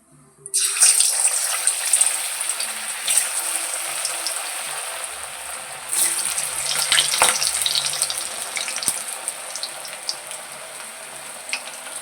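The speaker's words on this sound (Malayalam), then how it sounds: "കായ വറുത്തെടുക്കാൻ വേണ്ടി ചീനിച്ചട്ടിയിലേക്ക് എണ്ണ ഒഴിച്ചിട്ടെടുത്തിട്ടുണ്ട്" Unnakkaya, the Kerala plantain snack, frying in oil in a pan, a steady dense sizzle and bubbling hiss that sets in abruptly and holds unbroken, with no voices.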